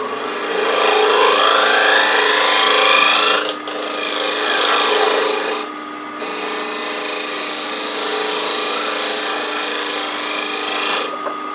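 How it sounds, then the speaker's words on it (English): A spindle gouge scrapes across spinning wood on a lathe while turning an acorn box, giving a loud, continuous rasp in three long passes with brief lifts of the tool between them. "I'm just going to kind of do a pull scraping cut with this spindle gouge."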